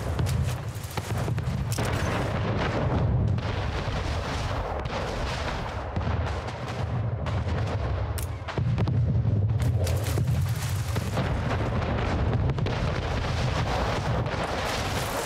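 Sustained naval gunfire from a ship battle in Anno 1800, with dense, rumbling cannon volleys and booms rolling continuously, loud and close, and no talking over them.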